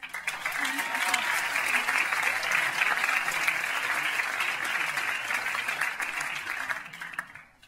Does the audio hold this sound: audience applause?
yes